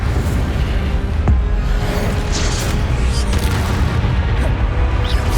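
An Incendio fire spell effect from the Hogwarts Legacy video game, heard as a loud, steady roaring rumble with a sharp impact near the start that fills the whole stretch.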